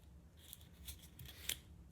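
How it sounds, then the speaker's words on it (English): Masking tape is torn and pressed along the top of a simple string puppet, giving a few faint, brief crackling rips close by in a quiet room. "Masking tape along the top."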